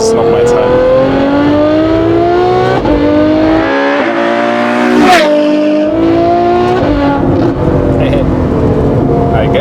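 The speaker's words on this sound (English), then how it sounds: "we want to show them how a real V12 is sounding" A Novitec Ferrari F12 N-Largo R with its V12 engine revs hard and close, the pitch climbing and falling through several throttle blips over a steady loud idle, with a voice talking underneath.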